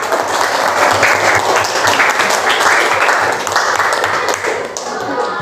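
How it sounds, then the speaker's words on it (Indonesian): Loud, dense applause from a classroom of students for a student group during a teacher's lesson, continuous and close, with a slight dip near the end. "Kita kasih tepuk tangan untuk kelompok A"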